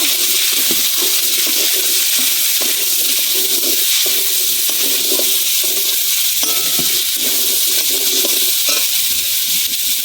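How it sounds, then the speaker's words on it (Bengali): Cut potatoes and cucumber are stir-fried in oil with bay leaf and cumin, a loud, constant hissing sizzle close by with faint scraping knocks of a spatula underneath. "দিয়ে ভালো করে নেড়ে চেড়ে ভেজে নেব"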